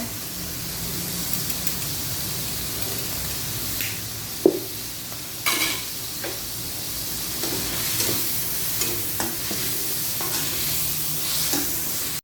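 Tomatoes frying in a pan with salt and black pepper, a steady close sizzle with occasional stirring scrapes and clatters of the utensil.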